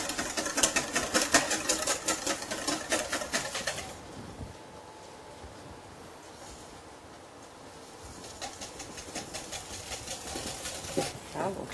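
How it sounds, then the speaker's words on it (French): Egg yolks whisked with sugar for a chocolate moelleux, a rapid rhythmic whirring of an electric mixer that runs loud for about four seconds, drops to a quieter stretch, then resumes steadily near the end. "on va battre les jaunes avec le sucre. Donc on bat un petit peu les jaunes avant d'ajouter le sucre."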